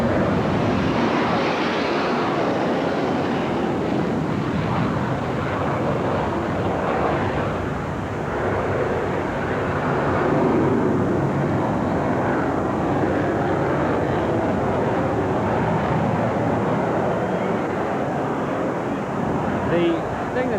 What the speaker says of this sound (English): Highly maneuverable airplane.